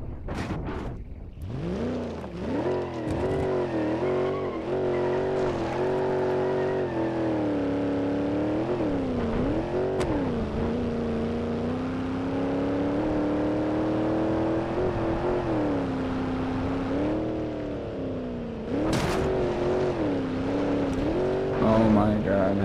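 A car engine over-revs with its turbocharger blowing, giving a loud, close, continuous engine drone whose pitch repeatedly climbs and dips as the revs surge and fall.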